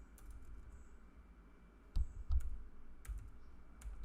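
Sparse keystrokes on a slightly faulty computer keyboard: a few scattered, fairly loud clicks and clacks with long gaps between them, over a steady low room hum.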